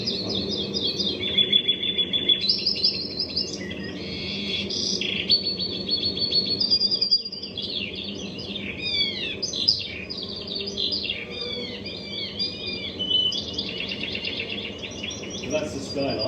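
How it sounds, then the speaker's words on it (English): A skylark and a woodlark sing together outdoors, high trilling warbles and sweeping fluting phrases overlapping continuously, heard clearly over a faint low background hum. "You've got a skylark and a woodlark both singing at the same time."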